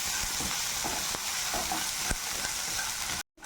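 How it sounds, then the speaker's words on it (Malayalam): Sliced onion sizzles steadily in a hot pan, with a dense frying hiss and a few soft scraping stirs, ending in a brief silent gap. "സവാള കട്ട് ചെയ്ത് നന്നായിട്ട് വഴറ്റി കൊടുക്കാം"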